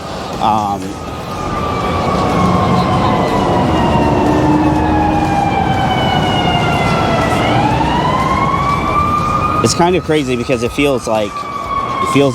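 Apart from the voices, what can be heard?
ambulance siren passing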